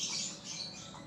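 A baby bird squawking, thin high-pitched cries in a short burst, close and fairly faint, with no voices.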